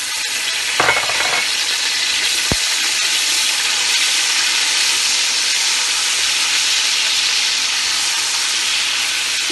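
Garlic ginger paste sizzling in hot oil with onions while making oven-baked chicken biryani, a loud, continuous close hiss with a brief stir early on.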